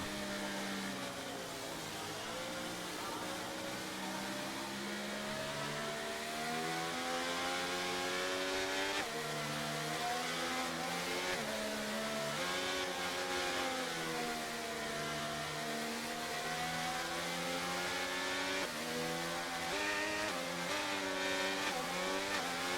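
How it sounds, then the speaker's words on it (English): Race cars in a racing video game accelerate hard at a safety car restart at the Netherlands round, with layered engines revving up and shifting in steady, rising and falling tones, loud and continuous throughout. "And he puts the throttle down now. It's a great restart from Davito."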